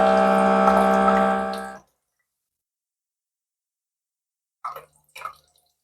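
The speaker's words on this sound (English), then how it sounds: "Once the water has finished dispensing" A Baby Brezza Formula Pro Advanced machine dispenses a steady stream of water loudly into a bottle for under two seconds, then stops abruptly; after a long pause, two brief faint clicks or drips follow.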